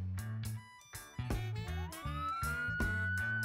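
A toy police car siren from a children's alphabet puzzle plays a tinny electronic wail with a rising tone over a repeating bouncy beat, loud and close.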